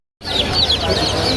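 Chickens clucking and chirping at a crowded bird market in Mirpur, Dhaka, a steady busy chatter of fowl close by after a brief silent start, with voices mixed into the din.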